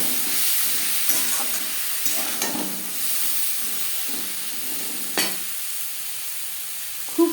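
Yardlong beans tossed with tempering spices in a frying pan, a steady sizzle and hiss with soft scraping stirs and a few sharper clinks of the spatula against the pan.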